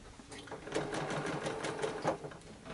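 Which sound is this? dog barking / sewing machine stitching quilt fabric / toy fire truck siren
sewing machine stitching quilt fabric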